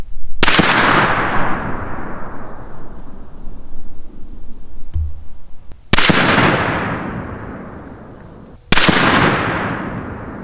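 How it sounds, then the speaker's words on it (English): Three loud rifle shots on an outdoor range, fired at a target through a rifle wearing an Athlon Argos HMR 600 BDC scope, each a sharp crack with a long rolling echo, spaced a few seconds apart with no talk. "So run back up range, and we'll fire a few shots and see where we're at."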